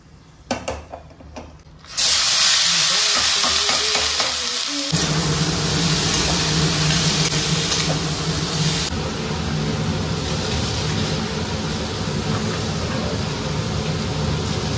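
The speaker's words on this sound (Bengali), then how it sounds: "আজকে না ভাবছি সাদা তেলে ভাজি উচ্ছেটা" Bitter gourd hits hot white oil in a home kitchen: after a few quiet clinks a loud, sudden sizzle bursts up and keeps hissing steadily at close range, with no one speaking.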